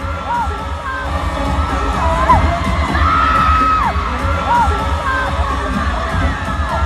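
Fans scream and cheer at a concert in Las Vegas, a dense, sustained roar of high-pitched shrieks and whoops from a huge arena crowd, loud throughout.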